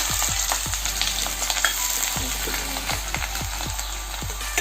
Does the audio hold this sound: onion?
yes